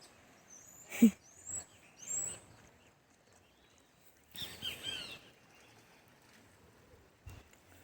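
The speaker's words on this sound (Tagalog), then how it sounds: "Ay, maraming ibon, no? Tingnan nyo. Ang daming ibon." Scattered bird chirps and short whistled calls come in a few bursts, fairly faint against a quiet outdoor background with occasional bumps, in Bermuda.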